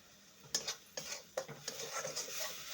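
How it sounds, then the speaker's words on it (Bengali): A spoon stirs spices frying on low gas in a pan with onion paste, scraping and clinking against the metal in several distinct strokes over a soft sizzle, close and moderately loud. "এখন একটু নেড়ে দেব।"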